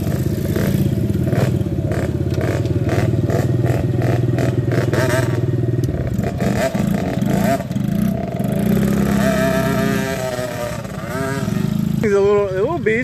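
A small Coolster dirt bike engine revs loudly and close, its rapid throttle blips and sustained buzzing climbing and falling repeatedly, with someone speaking briefly over the noise.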